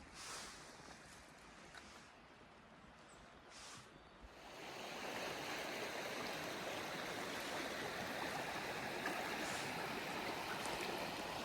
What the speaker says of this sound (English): this is the River Dove, although not the most popular part of the River Dove